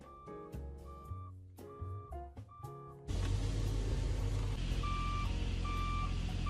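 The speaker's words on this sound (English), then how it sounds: "one of the alarm things that go off whenever a big truck is backing up" Repeated high electronic beeps over engine-like noise, a car's brake-triggered alarm sounding like a truck reversing alarm, pulsing steadily, getting louder as a broad roar joins halfway through.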